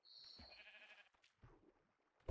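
A few short bleats from a swimming sheep in a video game, with quiet pauses between them and a sharper knock at the very end.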